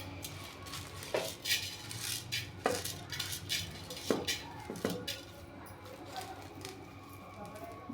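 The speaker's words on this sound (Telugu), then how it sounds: "మూడు స్పూన్లు శనగపప్పు వేసుకోవాలి." Chana dal goes into a pan by the spoonful, with several sharp clinks of a spoon against metal over a faint sizzle and low background noise.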